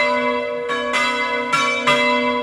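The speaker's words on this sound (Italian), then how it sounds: "Campane che suonano" Church bells of the Chiesa di Santa Lucia in Piovega, Gemona del Friuli, ring for the start of Holy Mass, with several loud overlapping strikes over a sustained, humming ring and no talking.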